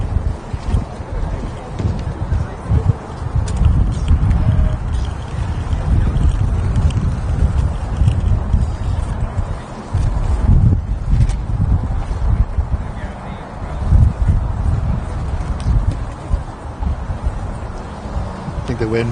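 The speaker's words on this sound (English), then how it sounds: "I think the wind might be picking up again" Gusty wind roars across an elevated outdoor athletics track at a university track and field championship, producing a loud, low buffeting rumble on the microphone that swells and dips throughout.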